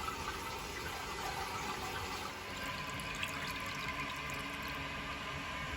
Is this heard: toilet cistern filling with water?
yes